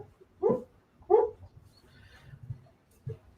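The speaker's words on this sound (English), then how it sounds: "he's barking at the gate like someone is here" Rocky the dog barking at a gate, two sharp nearby barks in quick succession followed by a fainter yelp, with quiet gaps between.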